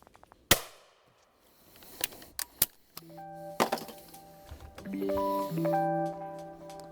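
A shotgun fires at a clay target on a beginner clay shooting course, with one sharp, loud blast followed by a few fainter cracks and a tonal beeping at the end.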